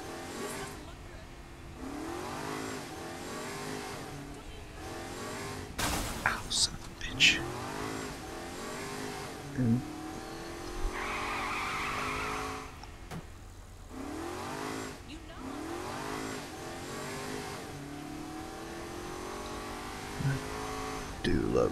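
A fast car in Saints Row: The Third revs hard and accelerates, its engine rising and falling in repeated sweeps with brief skids, loud and close under game noise, with talk in places.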